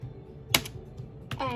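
A few sharp key clicks on a computer keyboard as a name is typed in while creating a Sims 3 character, with a voice starting up just at the end.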